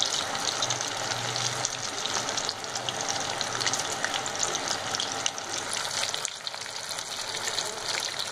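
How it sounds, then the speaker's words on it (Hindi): Coated masala chicken pieces frying in hot oil, a loud, continuous bubbling sizzle close to the pan, steady throughout with a brief dip near the end. "तो अब मैं इसी तरह सारे फ्राई कर लूँगी"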